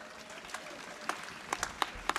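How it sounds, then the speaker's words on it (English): Faint, scattered clapping from a small audience at a cantor installation during an outdoor Shabbat Under the Stars gathering, a few sharp claps standing out over a soft crowd hum. "Can we give a round of applause?"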